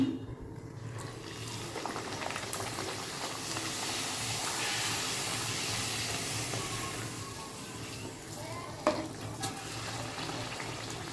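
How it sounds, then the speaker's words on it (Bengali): Luchi, puffed Bengali flour bread, deep-frying in hot oil in a home kitchen during Janmashtami puja cooking; a close, steady bubbling sizzle fills the whole stretch with a brief clink near the end. "এখন লুচি ভাজছি"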